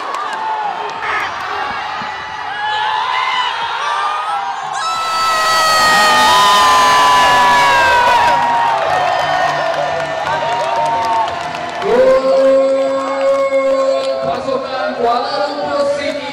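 Football crowd in a Malaysian stadium during a rainy match, loud sustained cheering, shouting and whooping from many voices that swells in the middle and keeps going with singing and chanting.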